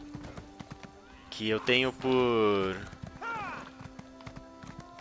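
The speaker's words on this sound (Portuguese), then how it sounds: "E aqui está o meu cavalo imperial," An imperial horse in The Elder Scrolls Online, heard as a loud whinny and a neigh among light rhythmic hoof clip-clops, with someone talking briefly over it.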